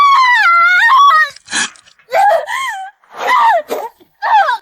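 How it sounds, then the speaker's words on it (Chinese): A person lets out a loud, close scream of pain, a long wavering cry followed by several shorter anguished wails with brief gasping breaks between them. "一声惨叫过后"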